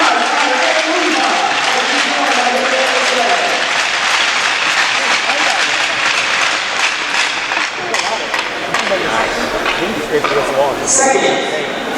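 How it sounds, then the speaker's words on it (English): Arena crowd at a men's ice hockey game applauds the Salve Regina team, loud dense clapping and cheering that holds steady throughout, with a public-address voice talking over it. "Please give another applause for Salve Regina."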